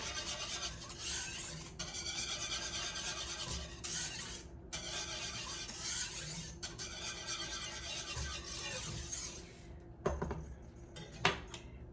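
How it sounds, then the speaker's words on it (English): Steady scraping strokes of a whisk against a pot of Greek egg-lemon soup, continuous with brief pauses, fairly close and alone without talk. "Continue whisking."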